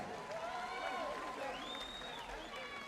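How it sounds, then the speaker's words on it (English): A crowd at a boxing event applauds and cheers super middleweight fighters, a steady wash of clapping and raised voices that holds for a few seconds at moderate level. "Round of applause, please, ladies and gentlemen, for these super middleweight warriors."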